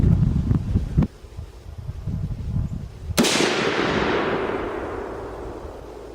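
A rifle fires outdoors while being sighted in at long range: one sharp, loud report with a long rolling echo that fades over several seconds, preceded by wind buffeting the microphone.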